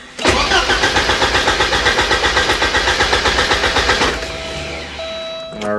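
A Porsche 944 engine is cranked by the starter on its first start, with a fast, even chugging rhythm for about four seconds before it catches and settles into a loud, close idle.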